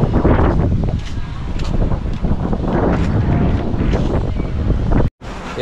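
Strong wind buffets the microphone outdoors during a rainstorm with an approaching typhoon, a loud continuous roar with gusting swells, cut off by a brief dropout near the end.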